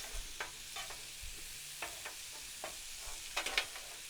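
Minced garlic, vegetables and butter stirred on a hot griddle, a soft continuous sizzle broken by repeated spatula scrapes and taps at an irregular rhythm, close and fairly quiet.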